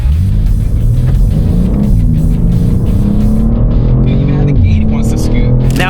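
A BMW M2 lapping a race track, its engine droning loud and steady with rising and falling revs as it accelerates and shifts through corners, a voice talking over the engine throughout.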